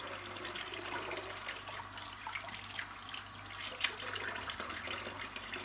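Faucet water pours and splashes in a bathroom sink as makeup brushes are washed, a quiet, even stream with faint drips and no speech.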